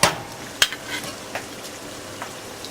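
Quiet sizzling of codfish stew with zucchini frying in a pan, with a few sharp pops and utensil clicks scattered across the crackle.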